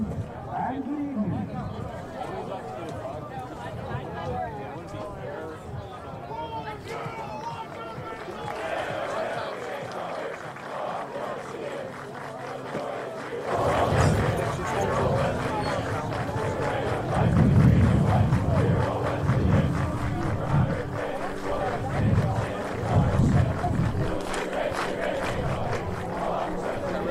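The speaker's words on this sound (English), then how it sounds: "Crowd enjoyed that one." A home football crowd cheers and roars after a 35-0 Titans victory at a Carthage versus Illinois Wesleyan game, swelling in the second half, with an announcer talking over the celebration.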